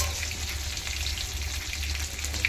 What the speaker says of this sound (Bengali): হলুদ দিয়ে আলুটাকে ভেজে নেব।